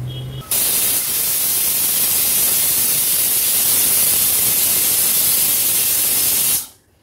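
A pressure cooker whistle: a loud, steady high-pitched hiss of steam jets out continuously for several seconds, then abruptly cuts off, with no talking.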